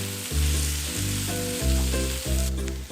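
Pre-soaked, washed pearl barley and salt pork, by the dish, sizzle and fry steadily in a hot pan, with a few louder stirring or tossing bursts breaking the constant crackle, close and loud, with no voices.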